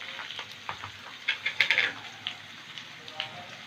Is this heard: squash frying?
yes